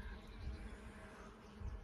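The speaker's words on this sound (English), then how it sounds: "These are solitary bees, masonry bees that are using those tubes," Solitary masonry bees buzzing around cut bamboo tubes used as nests on a spring day in England, a soft, steady hum with a couple of slightly louder swells as insects pass close.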